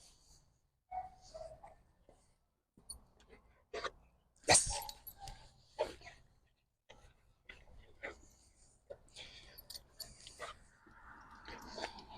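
A dog being trained with small food rewards gives soft whimpers, sniffs and chewing sounds, with scattered short barks, while a person talks intermittently close by.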